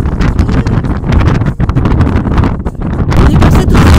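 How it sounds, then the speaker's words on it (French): Strong outdoor wind buffets the microphone with a loud, continuous roar and rumble, gusting throughout with no voice heard. "je ne sais pas si on m'entend avec le vent qui est très fort"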